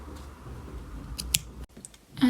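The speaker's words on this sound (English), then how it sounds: "And just cut the yarn." Scissors cutting crochet yarn on a baby turban hat give a brief, close snip amid quiet handling rustles, followed by a few soft clicks.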